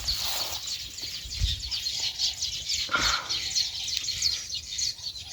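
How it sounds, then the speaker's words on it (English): Many birds chirping outdoors near their nests, a dense, continuous chatter of bright tweets at moderate distance, with a few low thumps in the background. "I kind of like the sound of birds."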